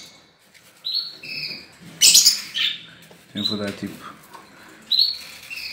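Lovebirds chirp and tweet at feeding time indoors, with short bright calls in scattered bursts and one louder squawk, while a person talks nearby.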